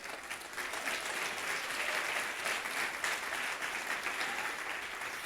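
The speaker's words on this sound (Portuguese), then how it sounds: "pode aplaudir" Church congregation at a family service breaking into applause, a soft, distant wash of many hands clapping that swells after a brief pause and holds steady throughout.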